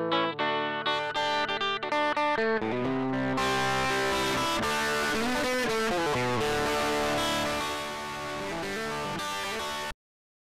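Synthesized or instrumental music run through a distortion plugin in Logic Pro, sustained harmonic tones turning gritty and saturated, with the texture thickening partway through before cutting off abruptly.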